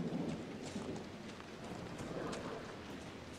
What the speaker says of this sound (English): either that's lightning and thunder, or it's a dragon